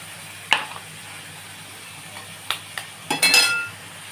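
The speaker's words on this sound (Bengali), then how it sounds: "আমি ডিমটা ফাটিয়ে দিচ্ছি এর মধ্যে।" An egg cracked against a pan's edge gives a sharp tap near the start, then a couple of light knocks, and the shell breaks open with a brief crackle and a short sizzle as it lands in the pan beside eggplant.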